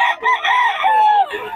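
Rooster crowing close and loud, a single long drawn-out cock-a-doodle-doo lasting over a second, with faint background sounds and no clear voices.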